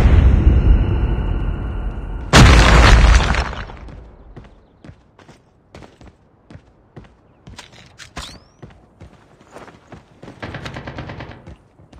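Gunfire in Call of Duty Mobile during a hardpoint match: a loud sustained burst of automatic fire, then a quieter run of scattered single shots and a short rattling volley near the end.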